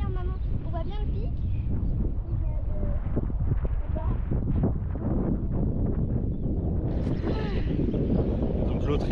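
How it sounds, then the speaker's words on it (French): Strong wind buffeting the microphone on an island coast, a constant loud rumbling roar running throughout with people talking over it. "Trop de vent."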